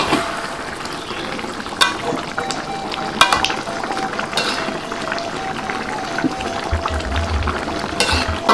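Chicken for Ayam Koto Gadang is stirred and turned in a cooking pan, with utensil scrapes and clinks over a steady frying hiss that carries through the whole stretch.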